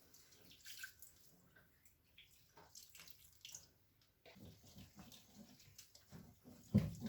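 Quiet water pouring and sloshing close by into roti batter with sugar, with soft stirring and clinking as it's mixed smooth; no talking.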